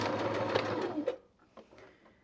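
A domestic sewing machine stitches through leather with a steady, close mechanical whirr for about a second, then falls to quieter, intermittent clicks and taps.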